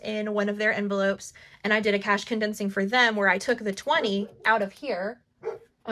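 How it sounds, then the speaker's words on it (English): A pet dog barks repeatedly indoors, sharp yips and barks scattered beneath a person talking continuously nearby. "Sorry if you can hear my dog barking."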